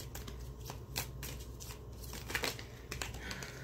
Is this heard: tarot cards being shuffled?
yes